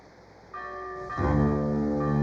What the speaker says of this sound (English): Bell. I suppose it's the one on the vault.